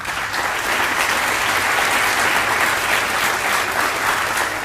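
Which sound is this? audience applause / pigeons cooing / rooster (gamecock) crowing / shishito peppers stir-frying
audience applause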